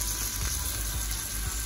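Green beans and garlic cauliflower sizzle and crackle steadily in a hot pan, a continuous close frying hiss with small pops throughout.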